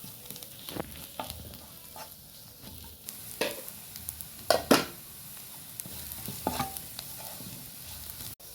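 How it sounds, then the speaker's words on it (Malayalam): Chili powder fries in a pan while being stirred: a low continuous sizzle punctuated by sharp spatula scrapes and clinks, a few louder knocks clustered in the middle. "മുളകിൻ്റെയൊക്കെ ഒരു പച്ചമണം മാറുന്ന വരെ ഒന്ന് നമുക്കൊന്ന് ഇളക്കിയെടുക്കാം"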